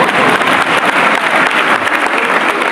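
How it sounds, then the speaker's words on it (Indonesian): A church congregation in Indonesia breaks into loud, sustained applause during a sermon, a dense wash of many hands clapping steadily throughout with little variation. "Silakan tepuk tangan dulu."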